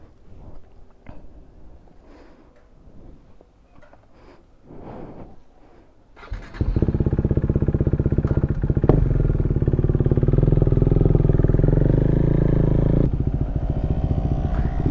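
A KTM 390 Duke motorcycle, freshly fitted with a new sprocket, starts with clicks and handling noises before the engine catches and settles into a loud, steady riding drone close by that holds to the end.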